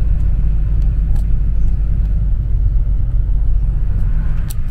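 A bus drives along a road, heard from inside through its window as a loud, continuous low engine and tyre rumble with no pauses.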